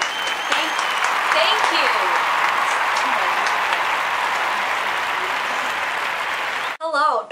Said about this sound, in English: Let's give another round of applause to Marcella.